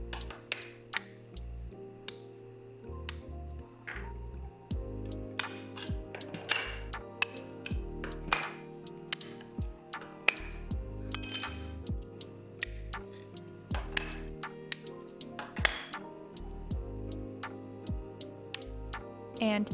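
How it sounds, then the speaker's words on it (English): Stained glass being worked with a glass cutter, giving sharp clicks, ticks and glassy clinks in an irregular series over a steady low hum, with no one talking. "This is where we use the glass cutter."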